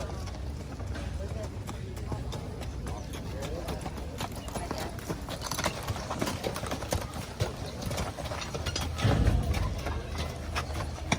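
Horse hooves clip-clopping at a 2023 horse pull event, steady busy hoofbeats amid crowd noise and talk, with a louder burst of activity near the end.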